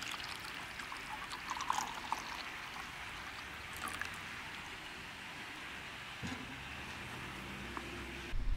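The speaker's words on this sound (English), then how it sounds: "So today I chose to pour my coffee into a mug" Fresh coffee pours from a Kohipress travel coffee press into a mug, a steady, fairly close liquid trickle running continuously with a slight change in tone near the end.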